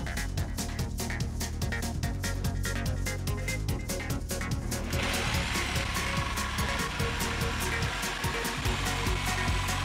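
Saw cutting two wooden pieces for a DIY shelf with a drawer, rapid rhythmic rasping strokes close by that shift into a steadier buzzing whir partway through.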